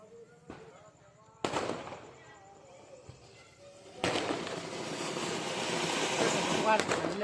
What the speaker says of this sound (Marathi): आम्ही खाली फटाके वाजवतोय. आता रॉकेट त्यातनं चालू आहे.